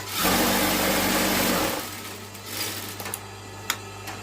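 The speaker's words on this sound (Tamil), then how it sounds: "இப்போ இதை அப்படியே ஜாயின் பண்ணிக்கலாம். துணி வடகாமல் இருக்கிறதுக்காக இந்த தையல்" An electric sewing machine stitches blouse fabric and its lining together in a loud, steady mechanical whir for about a second and a half, then stops, followed by quieter fabric handling and a few small clicks.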